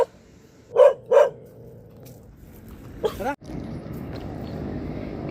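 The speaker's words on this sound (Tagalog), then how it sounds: "Tour guide ko pa uwi. Tahol ng tahol." A dog barks twice in quick succession, sharp and fairly close, then once more faintly after a pause, followed by steady background noise.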